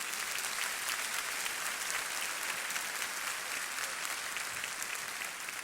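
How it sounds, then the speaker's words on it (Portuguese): A church congregation claps together in sustained, steady applause that fills the room evenly from start to finish, with no single voice standing out. "Você pode aplaudir a Jesus?"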